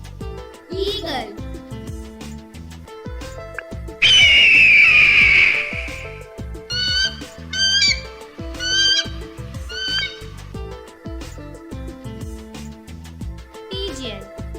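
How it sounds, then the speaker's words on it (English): Eagle calling with a loud, piercing shriek lasting about two seconds, followed by shorter chirping calls over background music, with a brief voice at the start and end. "Eagle."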